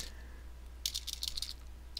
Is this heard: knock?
no